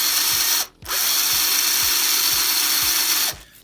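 A Black & Decker 14.4 volt cordless drill grinds loudly and steadily through the head of a rivet, stopping briefly partway through before spinning up again and cutting off near the end.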